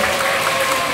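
Audience applause at a quiz-bowl award ceremony after the winners are announced, a steady broadband wash of clapping that fills the whole second at an even level with no voices on top.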